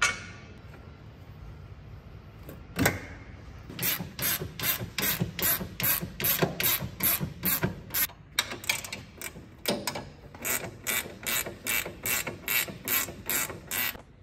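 A hand ratchet tightens bolts on a car's rear suspension during a limited slip differential install, long runs of rapid, even clicking strokes repeated close by, moderately quiet with brief clanks between runs.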